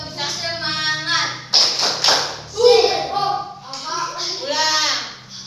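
A group, seemingly children, chants the rhythmic 'spirit clap' routine, voices rising and falling in sung phrases punctuated by a few sharp hand claps.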